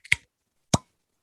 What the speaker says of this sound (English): So here we go. Cork pop.